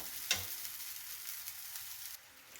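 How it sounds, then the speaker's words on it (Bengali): Spice paste for rohu fish curry frying in a pan, a soft steady sizzle with a sharp stir or scrape near the start and light stirring throughout, fairly quiet. "এবার মশলাটা আমি ভালো করে কষিয়ে নেব"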